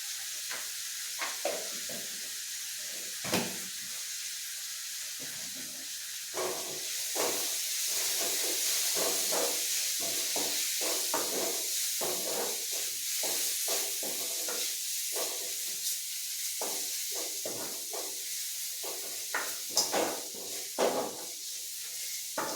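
Chunks of elephant foot yam (chena) are sautéed with turmeric in a pan, giving a steady steamy hiss. Frequent stirring scrapes and knocks run through it, close up and without voices.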